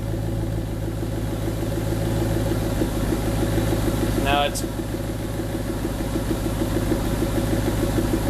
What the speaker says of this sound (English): That's the first start with the mufflers on the car.